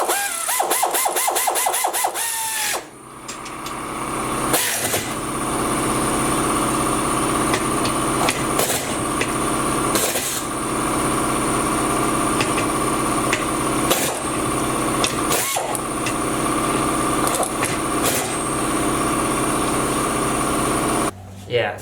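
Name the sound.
air compressor running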